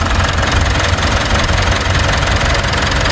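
A 2016 Mitsubishi Montero engine idles steadily just after a drive belt replacement, a smooth, even, close-up running hum with low rumble and no squeal, continuous and alone without speech.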